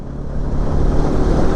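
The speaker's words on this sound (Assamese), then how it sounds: "বাইকখন মিছ মাৰিছে পূৰা" A Bajaj NS200 motorcycle engine running on E20 ethanol-blended petrol and misfiring gives a brief, steady low rumble mixed with wind buffeting.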